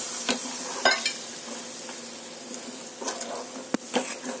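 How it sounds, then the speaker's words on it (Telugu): Masala paste fries with brinjal, onion and tomato in a pan, a soft steady sizzle broken by several sharp scrapes and taps of a spoon stirring nearby. "ఇప్పుడు ఈ పేస్ట్ కూడా వేసేసుకొని వేయించుకోవాలి"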